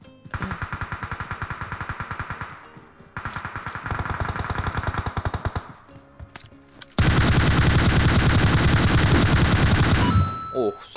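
Rapid automatic gunfire from the video game PUBG crackles in three sustained bursts, the last one longest and loudest, with short pauses between them.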